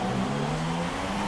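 Race car engines drone steadily in the F1 2016 video game, a sustained mid-pitched roar of cars close by for a brief moment, with no talk over it.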